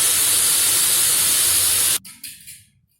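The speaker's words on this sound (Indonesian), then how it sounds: "Nah ini proses pemotongan, potong miring nih kayak gini." Iron for a fence is cut at an angle, a loud, harsh, steady grinding hiss that stops abruptly after two seconds and leaves a brief spinning-down rattle.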